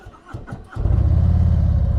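A rented Harley-Davidson motorcycle's big engine cranks a few times and then fires, settling into a loud, steady low rumble that stays close and continuous.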